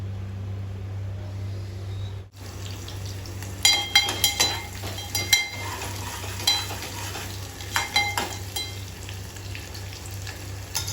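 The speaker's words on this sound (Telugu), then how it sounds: "ఆనియన్ కట్ చేస్తాను ఒకటి వేస్తున్నాను" Chopped onion frying in oil in a pan for a chicken egg curry, a steady close sizzle broken by irregular scrapes and stirring clatter, with no talk.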